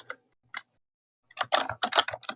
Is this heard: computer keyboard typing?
yes